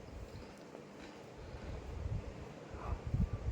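Strong wind gusts outdoors at a zoo, rumbling against the microphone in uneven surges that grow louder toward the end.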